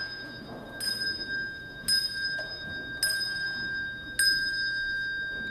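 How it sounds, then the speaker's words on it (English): Four clear church bell strikes ring out at roughly even intervals on a Sunday, each bright tone sustaining and fading over a faint background hum. "As you can hear, the bells are here"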